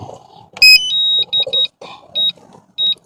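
Repeated electronic beeps from a DJI Air 3 drone controller, a bright tone first, then steady short pulses in uneven groups over quiet outdoor background.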